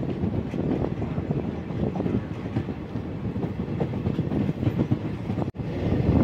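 A train rolls steadily through the Kasara Ghat mountain pass just after a tunnel, with a continuous rumbling rattle and rhythmic clatter of wheels, close by and without pause.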